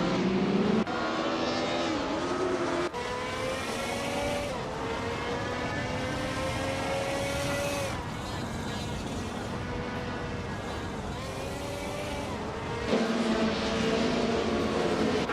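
Racing engines of a 1994 Mercedes C180 DTM and rival cars in a racing video game, a steady high whine rising and falling through gear changes over a continuous roar, with no pauses.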